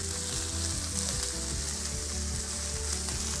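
Zucchini sautéing in a pan gives a continuous loud sizzle with soft stirring scrapes over a low hum, no voices.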